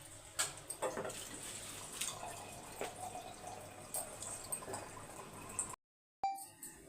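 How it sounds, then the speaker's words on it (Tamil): Water runs and splashes steadily from a small vessel into a cooking pot for several seconds, fairly quiet, then cuts off abruptly near the end. "இந்த சின்ன சொம்பில் ஒரு சொம்பு தண்ணி ஊற்றிடலாம்"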